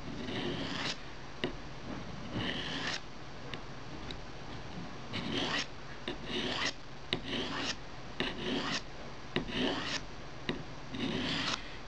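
Steel knife blade stroked repeatedly across a whetstone while sharpening to a shaving-sharp edge, giving rhythmic close gritty scraping passes in bursts with short pauses between strokes.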